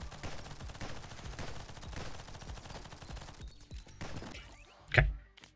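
Rapid gunfire from the Nimrods Guncraft Survivor game, a sniper rifle modded into a flak cannon, a dense stream of quick shots that cuts out and then ends in one loud, close blast.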